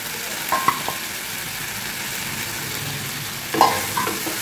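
Steady sizzling of potato and cauliflower frying in a pan, with a couple of brief clinks and scrapes as it's stirred.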